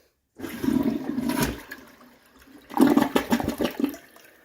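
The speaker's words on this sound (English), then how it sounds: "We have a dual flush, newer, I don't know the brand, toilet." A newer dual-flush toilet flushes twice: two close, loud gushing surges of water, each about a second and a half, separated by a brief quieter pause, with no talk.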